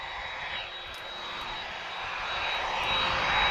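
A Ryanair airliner departing Lisbon Airport for Rome builds a distant jet-engine roar, faint at first and swelling steadily louder through the short stretch, a broadband rush with no voices.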